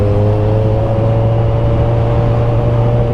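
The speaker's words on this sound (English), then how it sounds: "It's a little loud obviously because it's an inline 4" Inline-four motorcycle engine with an aftermarket exhaust holds a steady, smooth, droning hum at close range, loud and unbroken with no talk.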